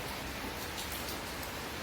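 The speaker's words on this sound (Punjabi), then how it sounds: "ਸ਼ੈੱਡ ਦੇ ਉੱਪਰ ਜਦੋਂ ਕਣੀਆਂ ਡਿੱਗਦੀਆਂ ਨੇ ਤਾਂ ਐ ਲੱਗਦਾ ਕਿ ਬੜਾ ਹੀ ਜ਼ਿਆਦਾ ਮੀਂਹ ਆ ਰਿਹਾ" Rain patters steadily on a shed roof, a dense, even hiss of drops with no voices.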